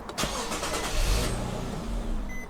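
An Infiniti G35 engine cranks and catches, runs unevenly with a low rumble and a brief rev, then sags as it stalls, recorded close by.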